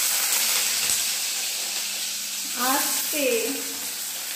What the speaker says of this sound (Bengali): আর ও এবার আলুগুলো ছেড়ে দিচ্ছে